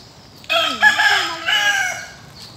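A Bisaya rooster crows loudly and close by, one long drawn-out call with a rising then falling pitch, over faint background noise.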